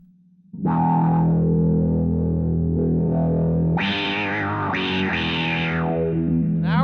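A Vox VT20+ combo amp plays distorted guitar through a sweeping Filtron filter effect with a touch of reverb, starting after a brief quiet hum and building into sustained notes and wah-like sweeps.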